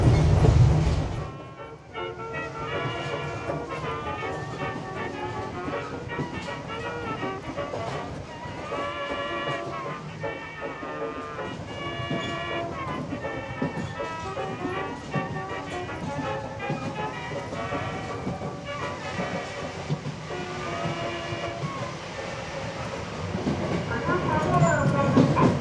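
A Sangi Line train, on a rural Japanese railway built by cement companies, rolls along its rails with a steady, dense rumble and rattle throughout, loud and close, with some tonal squeal mixed in.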